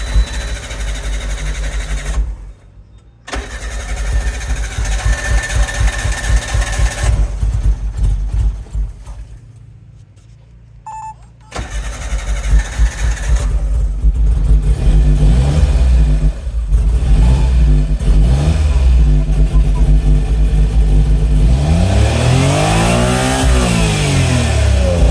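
The engine of a Suzuki Cara Autozam AZ-1, which has a phantom rev limiter fault, cranks and then revs repeatedly, rising and falling in loud, close bursts with a sustained high rev near the end.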